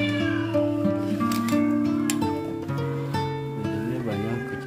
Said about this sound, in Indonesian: Ini banyak kucing-kucing. Pada dirawat.